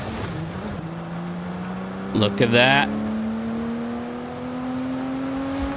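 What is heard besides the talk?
car engine heard from inside in video game Forza Horizon 5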